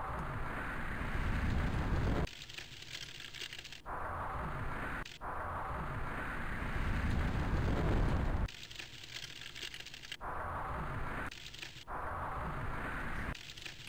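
A flamethrower weapon in the 486-era Desktop Toys PC game roars in sustained, loud whooshing bursts, broken by short gaps and abrupt cutoffs, with no talking over it.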